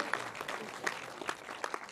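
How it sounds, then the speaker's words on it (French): Faint, scattered clapping from an audience in a comedy setting, sparse and distant, with a few individual claps standing out. "On peut les applaudir,"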